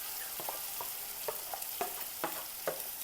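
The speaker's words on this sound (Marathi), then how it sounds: "कांदा पण आपला व्यवस्थित परतून घ्यायचा" Onion sautéing in oil with masala in a pan for Maharashtrian egg curry: a soft steady sizzle broken by light rhythmic scrapes and clicks of a spoon stirring, close and fairly quiet, with no talking.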